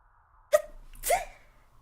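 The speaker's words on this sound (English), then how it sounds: "I sneezed." A single sharp sneeze bursts out in two parts, a quick intake followed by a louder explosive release, close and otherwise quiet.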